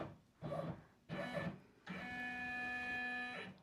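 An embroidery machine moves its frame to trace the design outline on a Lands' End tote bag held in a Fast Frames hoop, giving two short whirring bursts and then a steady motorized hum with whining tones lasting about two seconds, close by.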